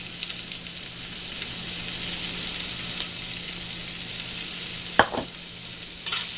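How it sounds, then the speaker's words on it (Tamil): Mutton curry base with turmeric powder sautéing in a pan, a steady close sizzle with occasional stirring scrapes and a couple of sharper clinks of a spoon against the pan near the end. "இப்போ இதை நல்லா வதக்கிக்கோங்க."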